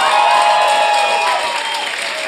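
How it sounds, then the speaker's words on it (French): Studio audience at a Québec French-language talk show applauds steadily and loudly, with a faint cheer or two mixed into the dense clapping throughout. "J'aimerais ça qu'on donne bonne main d'applaudissement à Gabi Tibi."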